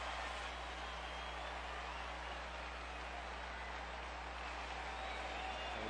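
Big crowd of about 40,000 at a Phillies versus Cubs baseball game in Chicago, a steady distant roar of stadium noise under a low constant hum, with no distinct cheers standing out.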